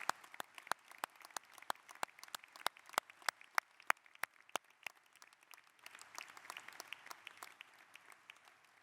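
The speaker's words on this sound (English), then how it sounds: "Please join me for a round of applause to thank all these donors that have made these" An audience at a university presidential inauguration claps to thank donors, a sparse, distant patter of hands in a large hall that thins out over several seconds.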